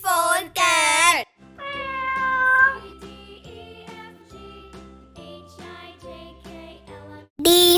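Two loud, drawn-out cat meows, then a tinkling musical passage, then another meow at the very end.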